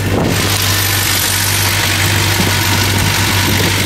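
A car idling steadily in freezing snowy weather, a loud, even, close engine drone with constant low vibration and no voices.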